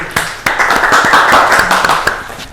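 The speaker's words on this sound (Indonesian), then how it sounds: "Tepuk tangan semuanya" A small group in a classroom gives a brief round of applause, with uneven, close hand claps over a couple of seconds.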